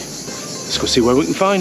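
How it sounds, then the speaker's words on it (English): A steady high, buzzy insect chorus like crickets fills the background while a person speaks briefly over it outdoors. "Listen to those crickets in the background."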